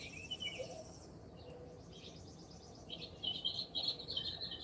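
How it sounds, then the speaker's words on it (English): Birds chirp and tweet outdoors in a morning setting as rain approaches, with faint insect or cricket buzz underneath; the calls come in soft, scattered bursts at moderate distance, growing a little livelier toward the end, with no talking. "the birds are chirping."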